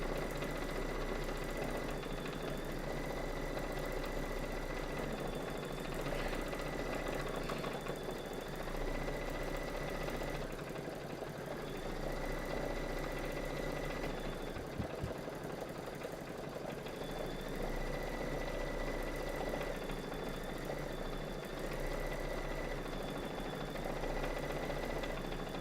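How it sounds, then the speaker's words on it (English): Embroidery sewing machine stitching out a brown number 6, a steady mechanical hum with a fast, regular needle chatter that runs continuously and evenly throughout, with no talking. "we're going to put in the brown and stitch out the number 6"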